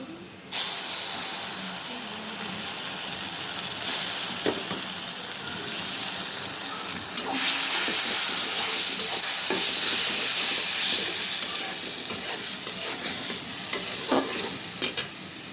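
Onion paste fries in a hot pan while being stirred, a strong steady sizzle and hiss that jumps louder as it hits the oil, with scraping stirs throughout and no talk.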